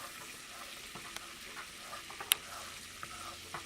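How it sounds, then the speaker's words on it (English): Flour being stirred into melted butter for homemade turkey gravy, a soft quiet sizzle with faint scraping stirs and a few small clicks and pops, close and low in volume. "now is a good time now to stir in your flour"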